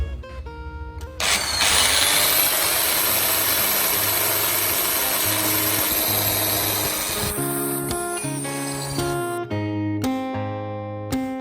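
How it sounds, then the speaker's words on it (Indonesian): Electric drill boring a hole through a PVC pipe cap: a power tool whirs up and runs steadily for several seconds, then slows into a stuttering, pulsing grind before stopping, with brief restarts near the end. "kemudian dop dilubangi dengan bor."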